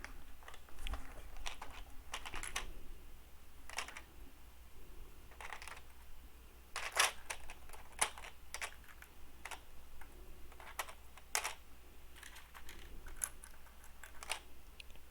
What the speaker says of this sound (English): Just putting these all back in their place on the keycap tray.